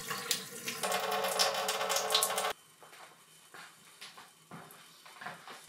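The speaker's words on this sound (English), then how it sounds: "open the faucet once again, and this time leave it open for 24 hours" Water gushes steadily from a reverse osmosis filter faucet, then abruptly drops to a quieter trickle with faint splashes and knocks.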